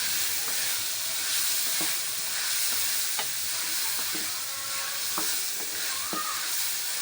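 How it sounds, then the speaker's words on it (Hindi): Bottle gourd (kadu) fries in a pan with a constant loud sizzle and hiss, while a spoon stirs and scrapes against the metal now and then in soft, irregular clinks, close up and with no talking. "इसको अच्छे तरीके से भून लें।"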